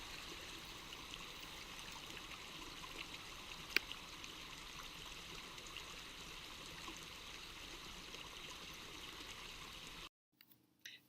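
A stream flows in a steady, even rush outdoors near a house in the Gaspésie countryside, with one faint click partway through, before the sound cuts out abruptly near the end.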